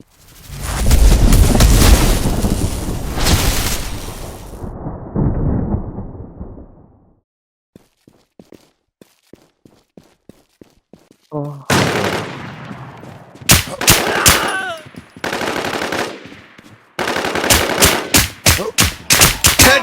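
Rapid gunfire and heavy explosions from the Warz video game, loud and dense at first, then a quieter stretch of scattered single shots before fast bursts of automatic fire and booms return near the end.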